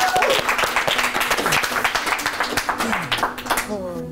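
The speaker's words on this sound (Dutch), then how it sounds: "Dames en heren, mag ik alvast een davend applaus voor niemand minder dan de snackspair en Moïse." An audience claps steadily at a Dutch frikandel-eating contest, dense applause held for several seconds before tapering at the end, with a presenter's voice partly over it.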